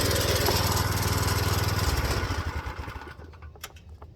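A small go-kart engine runs loud and close with a rapid, rattling putter that slows and fades as it shuts down near the end.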